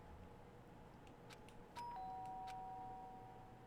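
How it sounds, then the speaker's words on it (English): A doorbell chime sounds indoors at night, two tones in quick succession that ring on and hold, faint against a steady low background hum. "did I hear the doorbell?"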